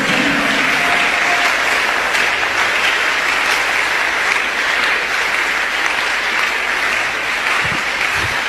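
Congregation claps for Jesus during a church service, steady loud applause filling the room throughout, dense and continuous with no break.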